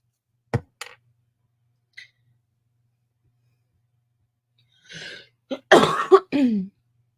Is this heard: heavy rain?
no